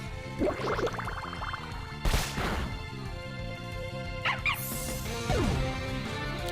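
Lillipup, a small puppy Pokémon, crying out in Pokémon Eternal X: a few short yappy barks and yips scattered between battle thumps and crashes over looping game music.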